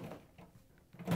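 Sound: trash compactor drawer being pulled out

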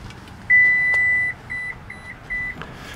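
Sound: minivan power liftgate beeping

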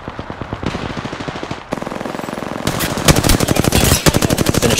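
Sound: gunfire in a first-person shooter video game

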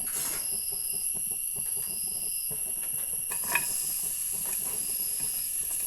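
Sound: onions sautéing in coconut oil in a pan

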